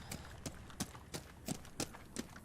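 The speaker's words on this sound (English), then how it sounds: "You will make a distinct footstep sound walking through a doorway into another room." Footsteps in the video game Rainbow Six Siege: a steady walking rhythm of about seven even, moderately loud steps over a few seconds, each a crisp broadband thud heard alone.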